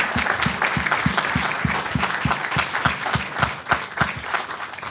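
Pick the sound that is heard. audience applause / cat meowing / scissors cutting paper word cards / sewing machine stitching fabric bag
audience applause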